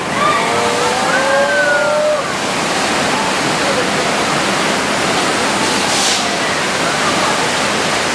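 Loud, roaring water gushes nonstop across an earthquake-effects set on the Universal Studios Hollywood studio tour, with brief voices near the start.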